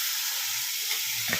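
Karthigai appam batter being ladled with a small ladle into hot oil, producing a dense, continuous sizzle with a brief bubbling burst near the end.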